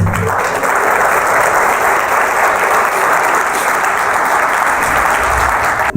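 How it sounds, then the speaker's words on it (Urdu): A church congregation claps loudly and continuously during a Christmas sermon, a dense, even wall of applause close to the microphone with no break for six seconds. "تو جس خدا نے ہمیں سنبھالا اس کے لیے زور تالیاں"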